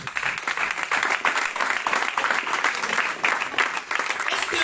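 A church congregation applauds and claps loudly and continuously, with dense rhythmic clapping and some voices mixed into the crowd noise throughout.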